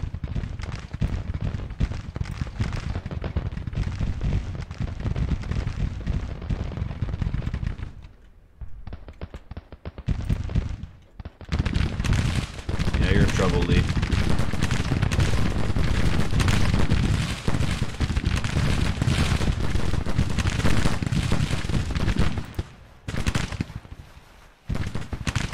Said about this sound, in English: Our guns are getting into position.